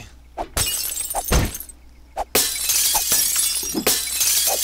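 Glass windows shattering as they are punched out in the survival game 7 Days to Die, several separate loud crashes of breaking glass, one after another, with no talk.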